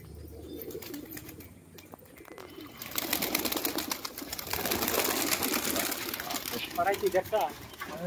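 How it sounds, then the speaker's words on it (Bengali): Many pigeons at a village loft in Nadia, West Bengal, cooing in a busy jumble with flutters of wings, quieter at first and then louder and denser, with people talking over the flock. "প্রচুর পায়রা।"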